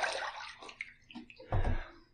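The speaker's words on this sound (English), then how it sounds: "Let me throw some water on my face here" Water splashed onto a face by hand during a wet shave with CK6 lather, a few soft wet splashes and drips, the loudest burst near the end, close and fairly quiet.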